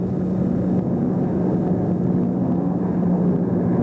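Several race car engines, including Chaparrals, revving together on the grid at the start of the June 1965 USRRC race at Watkins Glen, a loud continuous low rumbling roar with no talk.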